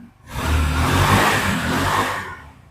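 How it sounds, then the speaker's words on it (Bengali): A CNG auto-rickshaw engine runs steadily and loudly up close, a dense mid-pitched motor drone that swells quickly, holds for about two seconds and then drops away. "গাড়ির সাউন্ড খুবই সুন্দর দেখেন গাড়ির সাউন্ড ভালো আছে"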